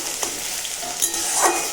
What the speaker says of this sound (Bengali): পেঁয়াজ রসুনগুলো দিয়ে দিলাম। ভালো করে এখন ভেজে নেব।